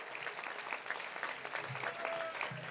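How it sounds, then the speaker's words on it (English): Crowd clapping at a high school graduation ceremony, fairly quiet and even, a brief stretch of dense applause with faint voices underneath. "Come on, round of applause."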